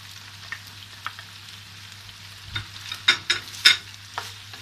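Chicken and eggplant are stir-fried in a pan, a low steady sizzle under a series of sharp clinks and scrapes from a utensil against the metal, growing busier and louder toward the end, with no speech.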